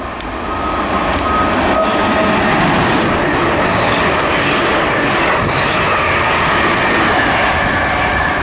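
A ScotRail Glasgow–Edinburgh train passing through Linlithgow station, a loud, continuous roar of wheels and engine rumbling close by throughout, with no voices.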